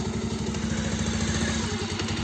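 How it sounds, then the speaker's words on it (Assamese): A motorcycle engine runs close by, idling with a steady, rapid, even putter for the whole moment and no pause. No voices are heard. "তো এয়া বাইক ষ্টাৰ্ট দিলে"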